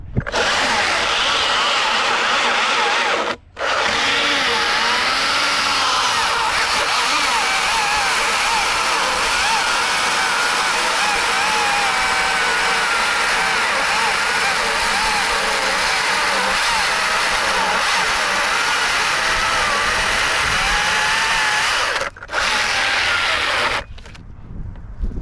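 Electric steel shears run with a loud, steady whine as they cut sheet metal, continuous for about twenty seconds with two short pauses and a trailing stop near the end.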